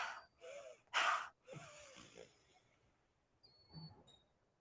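Slow, deep breaths drawn in and pushed out while sitting up during a breathing exercise, a few airy inhales and exhales heard up close and softly, with no talking.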